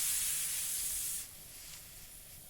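Pressure cooker venting steam in the cooking game Venba: a loud, bright hiss for about a second that drops abruptly to a softer, steady background hiss.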